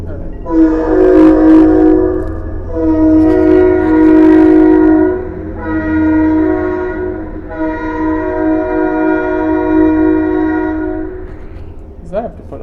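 A train rolls past close by, sounding its horn in long, loud sustained blasts that swell and fade over the rumble of the cars, with a brief voice near the end.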